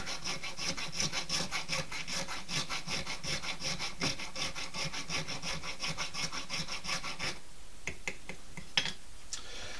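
A farrier's rasp files a bone fish hook being carved from natural bone, giving steady, rhythmic rough scraping strokes close up for about eight seconds, then a few sparser scrapes and taps.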